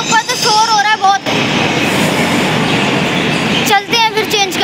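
Delhi Metro train noise on an upper station platform at Dwarka Mor, a loud steady rumbling roar of a passing train with rail squeal, with voices speaking before and after.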